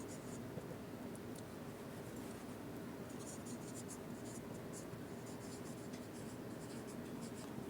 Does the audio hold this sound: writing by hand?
yes